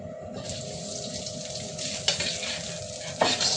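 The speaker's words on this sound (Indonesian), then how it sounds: "Ini aku tumis-tumis dulu bahan-bahan keringnya. Kita pakai wajan." Dry ingredients for nasi goreng sizzle and hiss steadily in a wok as they are stir-fried, with a couple of sharper scraping stirs near the end and no talking.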